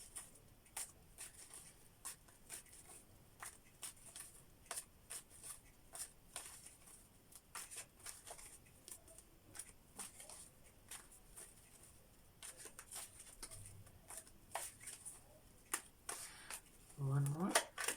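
Old Hungarian gypsy tarot cards are shuffled by hand in a quiet room, producing soft, irregular riffling and tapping clicks close to the listener, with a brief louder thump near the end.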